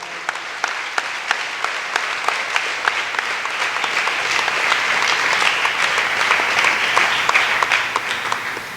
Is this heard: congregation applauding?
yes